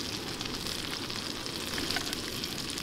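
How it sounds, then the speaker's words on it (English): Fish fries in butter in a hot pan, giving a loud, dense, continuous sizzle that holds steady and close throughout. "You just let that sizzle"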